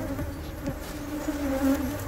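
Angry Africanized honey bees swarm with a steady, close buzzing drone that swells slightly louder toward the end, with individual bees whining past.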